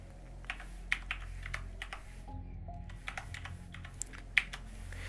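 Someone types on a computer keyboard while connecting to a Rust Legacy game server. Sparse, irregular key clicks and taps ring out close and fairly quiet, with a short pause in the middle and no talking.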